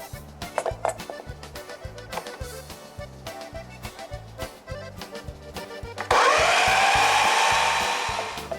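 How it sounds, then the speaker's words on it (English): A blender purées the red chile sauce for menudo rojo. Rhythmic thumping pulses come first, then a loud, steady high whir kicks in and holds to the end, fading slightly at the close. "I'm gonna blend it to perfection"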